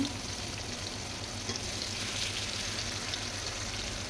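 Chicken fries in a hot pan with a steady, dense sizzle and crackle that holds evenly at close range, no one speaking.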